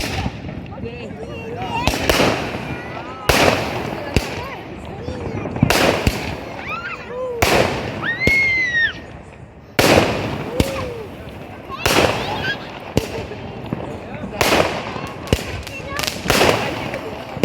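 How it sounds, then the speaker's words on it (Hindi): Firecrackers bursting in a park during Diwali, a rapid series of sharp loud bangs spaced every second or two, with voices talking and calling out between the blasts. "पार्क में सब पटाखे जला रहे थे,"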